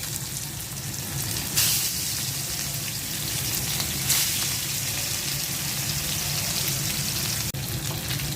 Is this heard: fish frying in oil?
yes